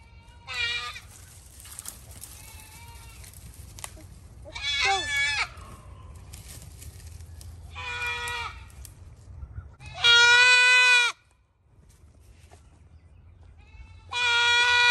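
Goats bleat in a series of loud, close calls, about five separate cries spaced a few seconds apart over a quiet farmyard background, with people speaking between them.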